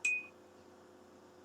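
A single short electronic notification beep from a Litter-Robot automatic litter box, sharp and close, fading quickly into a quiet room.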